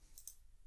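A computer mouse clicking twice in quick succession, a faint, crisp tick-tick close to the microphone against low background hum.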